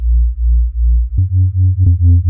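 A low, buzzing distorted sub bass synth tone for drum and bass holds steady, then jumps to a slightly higher, grittier note with more overtones, playing in pulsing sustained bursts.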